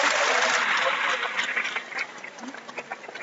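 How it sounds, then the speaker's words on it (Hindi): At a school annual function, an audience claps loudly in a dense burst, then the applause thins into scattered claps and fades. "तो एक बार खुद में ताली बजाओ ना जोर से"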